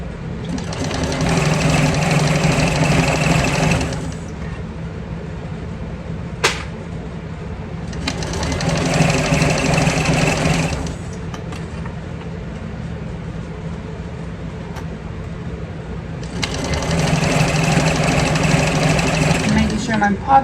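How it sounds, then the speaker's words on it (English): Sewing machine stitching a 3/8-inch seam on a handbag, running in three long bursts of steady whirring with pauses between, loud and close, with talk heard during the breaks. "And then we're going to stitch this that 3/8 of an inch seam allowance."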